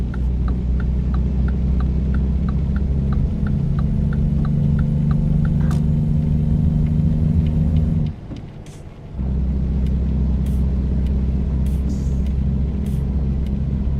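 A truck engine drones steadily as it drives in American Truck Simulator, a constant low hum with faint repeating ticks, dropping out for about a second partway before resuming at the same level.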